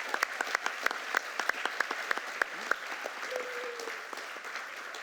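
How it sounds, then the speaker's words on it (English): Audience at the Genesys Works Bay Area Breaking Through 2016 event applauding its young professionals, a sustained crowd of many hands clapping at moderate distance, with a brief whistle partway through and no talk. "please give yourselves a huge round of applause"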